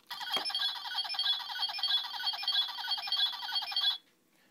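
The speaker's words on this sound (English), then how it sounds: "Morphing sound." A White Drago toy morpher plays its morphing sound effect: a sharp click, then a shrill, rapidly trilling electronic ring held for about four seconds before stopping abruptly.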